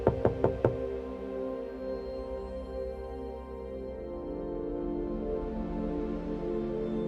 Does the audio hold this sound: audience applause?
no